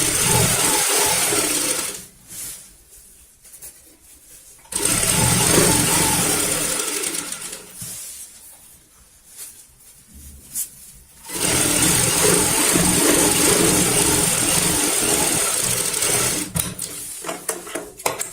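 Domestic sewing machine stitching the fourth and final side of a baby bed sheet, running loud and close in long steady bursts, with two pauses where it stops.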